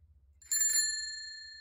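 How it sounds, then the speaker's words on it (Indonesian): A bicycle bell stock sound effect sounds one bright, loud ring that holds and slowly fades, heard on its own with no voices. "saya akan cari sound effect bel sepeda"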